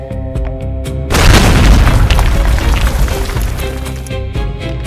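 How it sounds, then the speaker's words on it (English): Dynamite detonates in an audio drama, a single loud deep boom that rumbles and echoes as if off rock walls, slowly fading under a musical backing. "The explosion opened a hole."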